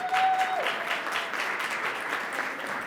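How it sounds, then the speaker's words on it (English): Steady applause from an audience at a Columbus community event for Black women entrepreneurs thanking its sponsors, moderately loud and even throughout the short stretch. "Big round of applause."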